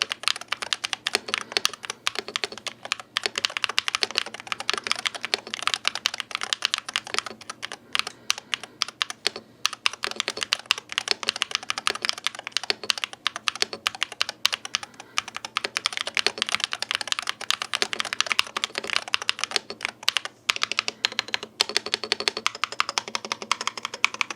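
Typing on an Attack Shark X65 Pro budget gaming keyboard with a plastic case and metal switch plate: dense, steady clacking of keystrokes close up, continuous throughout with no talking.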